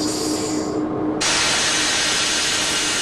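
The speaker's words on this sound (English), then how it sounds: "test the independent quick release by depressing the independent handle" Loud broadband air hiss from a locomotive's independent brake quick release on engine 8136, a softer venting rush that suddenly bursts into a full, steady blast for the rest of the moment, with no talking.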